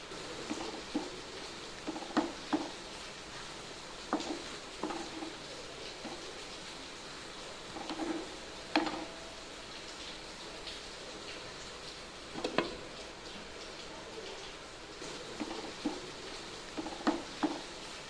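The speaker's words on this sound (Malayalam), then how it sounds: "ചെമ്മീൻ ആദ്യം പകുതി ആഡ് ചെയ്ത് നമുക്കത് നന്നായിട്ടൊന്ന് ഇളക്കി കൊടുക്കാം" Half a batch of marinated prawns is stirred into sizzling masala for a Malabar-style prawn roast, a steady frying hiss with intermittent soft scrapes and stirring knocks throughout, no voices.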